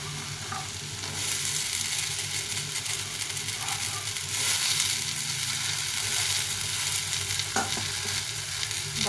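Chickpeas and peanuts fry and sizzle with pumpkin in a pan, a steady, close crackle that runs throughout, with occasional scrapes of stirring.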